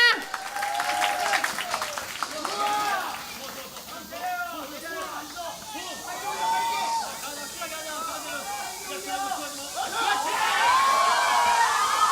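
Crowd applause with cheering and murmuring voices at a taekkyeon match between two players, swelling near the start, thinning to busy crowd noise with a voice over it, then rising again toward the end.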